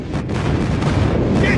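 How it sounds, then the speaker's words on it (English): Rumbling airstrike explosions in Call of Duty Mobile, a continuous heavy roar of blasts and gunfire filling the whole moment, loud and close, with battle voices mixed underneath. "Friendly airstrike incoming."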